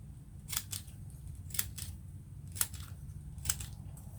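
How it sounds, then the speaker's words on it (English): Wiggly scissors cut through watercolor paper in four or five crisp snips spaced about a second apart. Each cut is close and sharp against a quiet room, and no one speaks. "I might like to maybe use my wiggly scissors."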